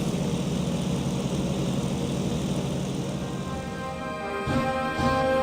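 A fighter plane flies steadily in a combat flight video game, its propeller engine droning continuously at close range, with a brief shift in tone near the end.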